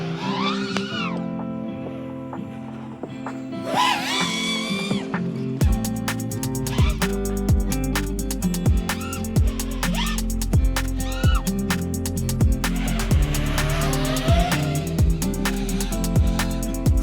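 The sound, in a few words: FPV racing drone with budget motors flying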